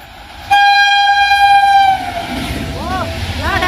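The Kalka Mail (Howrah Netaji Express) blasts a loud, sustained horn as it passes at about 130 km/h, followed by the rushing rumble of wagons close by and a sound that rises and falls in pitch as the train goes past.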